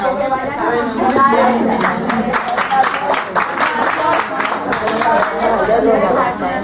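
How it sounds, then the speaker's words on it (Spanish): An audience claps in a dense patter of many hands for several seconds, mixed with lively chatter and voices throughout. "Dense una aplauso"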